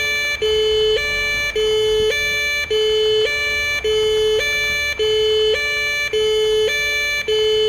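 A two-tone ambulance siren from the PS5 game Paramedic Simulator alternates steadily high and low, loud and continuous with no talking.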